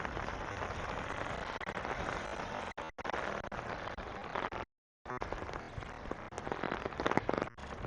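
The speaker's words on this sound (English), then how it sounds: "you'll hear the rain on the umbrella" Rain patters densely on an umbrella overhead during a city walk in Regina, a close, crackling spatter that runs continuously apart from a brief dropout in the middle.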